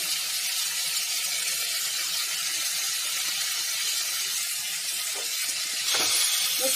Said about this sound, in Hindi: देखिए अब प्याज भी डाल रहे हैं हम इसमें।